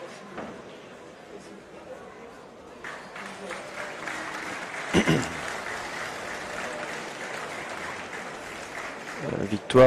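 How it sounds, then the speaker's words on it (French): Applause for a winning team of three players, rising from a faint patter into steady, moderately loud clapping from a sizeable audience, with a few sharper bursts near the end. "Victoire, les applaudissements là pour Cindy Perrault"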